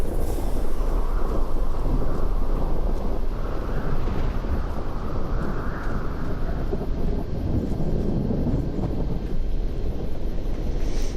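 A thunderstorm in the Fallout: New Vegas video game, a dense, steady roar of wind and rumbling weather holding loud throughout with no talk over it.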